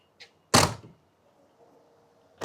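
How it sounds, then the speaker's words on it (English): The rear door of a Bentley S3 shuts with a single solid, close thunk. A faint click comes just before it, and a light latch sound follows a couple of seconds later. "Oh, you just got to love the sound of those doors."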